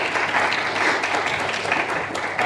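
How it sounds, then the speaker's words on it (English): Audience applause at a student union leadership election candidate question time, after a candidate's closing words; steady, fairly loud clapping from a room of people, dense and continuous with slight swells. "Round of applause."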